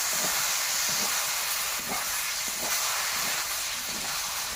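Chana dal cooking with soybeans hisses and sizzles steadily in a pan as water is added, a dense continuous frying hiss with faint stirring knocks underneath.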